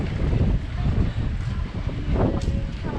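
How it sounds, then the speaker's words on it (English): Steady outdoor wind gusting and buffeting the microphone on a walk through Rzeszow, Poland, a broad continuous rush with a few faint background sounds. "Slightly windy,"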